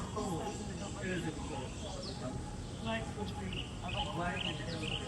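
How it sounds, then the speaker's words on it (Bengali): Small birds chirp and tweet beside a roadside next to a circuit house field in green surroundings in Mymensingh, with scattered quick calls over a constant background hum. "পাখির কিচিরমিচির শব্দ"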